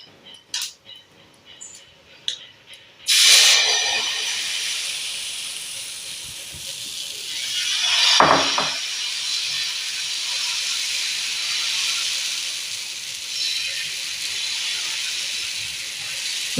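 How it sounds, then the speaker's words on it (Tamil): Wheat adai batter, made with finely cut onion, hits a hot dosa griddle and erupts into a loud, steady sizzle after a few quiet clinks, swelling briefly midway and hissing on without talk. "இப்போ வந்து நம்ம இந்த அடை மாவு கோதுமை மாவு ஊற்றலாம்"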